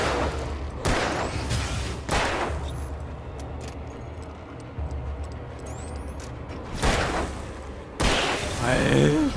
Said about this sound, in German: da habe ich schon wieder so 16 Schuss verballert